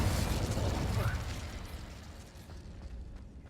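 Incendio and Confringo spell blasts in Hogwarts Legacy, heard as a fiery burst with crackling pops that fades away over a few seconds, fairly soft overall.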